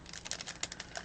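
Crinkly plastic crackling and rustling from a plastic embellishment package being opened, in quick, irregular bursts, close and fairly quiet, with a few sharper snaps.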